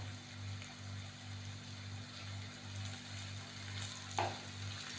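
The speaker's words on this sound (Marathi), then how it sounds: "हळद ही व्यवस्थित मिक्स करून घेऊयात" Turmeric is stirred into fried onions in a pan for gawar bhaji, a soft steady frying hiss over a low hum, with one brief scrape of a spoon, faint and close, no talking.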